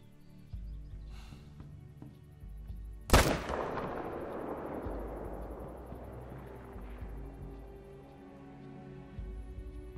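A hunting rifle shot in The Hunter: Call of the Wild, fired at a gnu about 300 meters away: one sharp, loud crack that rings out and fades into a long rolling echo over a low ambient hum.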